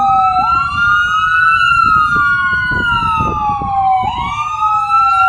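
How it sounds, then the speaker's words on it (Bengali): An ambulance siren wails loudly outside a Bangladesh supermarket, its rising and falling tone sweeping steadily and close as it passes, with road traffic rumbling underneath and no one speaking. "বাইরে অ্যাম্বুলেন্স যাচ্ছে পাশ দিয়ে, যে কারণে একটু নয়েজ।"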